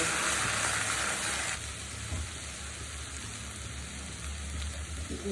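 Turmeric, chili powder and garlic paste frying in a pan for a sweet-sour-spicy raw green mango pickle, a steady close crackling sizzle that runs continuously, slightly louder at first.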